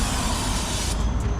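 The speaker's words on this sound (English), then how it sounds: "Okay, a little bit of brake cleaner." Brake cleaner sprayed from an aerosol can onto the front brake hub of a 2019 Toyota RAV4 Prime with the rotor removed: a steady, loud, close hiss that runs without a break and changes slightly in tone near the end.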